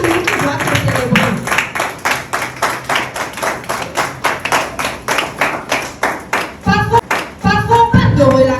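An audience at a project presentation in Porto-Novo claps loudly in a steady rhythmic beat, close and sustained, with voices rising over the clapping near the end.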